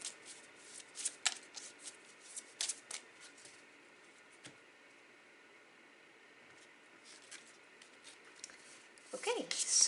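Tarot cards are shuffled and dealt out nearby, with soft riffles and flicks at the start, a quiet stretch, then more card handling and a voice speaking at the end.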